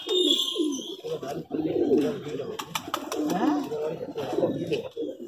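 Pigeons of the high flyer breed, including black-capped Saharanpur birds, coo repeatedly nearby, with soft chirps and someone talking over them throughout.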